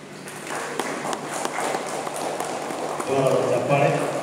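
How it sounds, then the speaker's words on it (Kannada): Steady broadband applause from an audience at a Swami Vivekananda award ceremony held by Karnataka Sahrudayara Seva Pratishtana, continuing throughout, with a voice speaking over it toward the end. "ಚಪ್ಪಾಳೆ"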